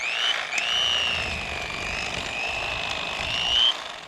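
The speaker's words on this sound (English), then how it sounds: "I've got a Mr. Twister Piranha Saltwater Series electric fillet knife I'm going to use" A Mr. Twister Piranha Saltwater Series electric fillet knife cuts into a catfish just behind the head. Its motor gives a steady, close, high-pitched whine that runs unbroken for about four seconds, with no talking.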